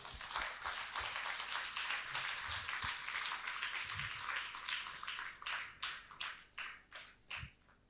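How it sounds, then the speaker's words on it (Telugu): An audience at a legal conclave applauding, a thick burst of many hands clapping that holds steady, then thins into scattered individual claps and fades near the end. "ఒకసారి మనందరము మన చప్పట్లతో వారిని గౌరవించాలి."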